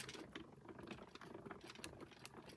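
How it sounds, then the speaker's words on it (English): A manual die cutting machine is cranked to roll a paper craft piece through. It gives a quiet, continuous run of rapid ratcheting, gear-like clicks and mechanical patter, heard alone. "I'm then going to roll this through my die cutting machine."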